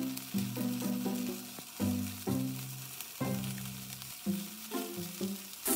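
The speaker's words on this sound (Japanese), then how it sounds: "ここでちょっと油を入れてもらって、鍋肌からちょっと入れてもらって、反対側も同じように香ばしく焼いていきます" Tofu frying in oil in a pan for teriyaki tofu, giving a steady, close sizzle with bursts of crackling and occasional clinks and scraping of a utensil.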